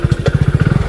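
A motorcycle engine thumps close by in a fast, even pulse of loud low beats, running alone without voices.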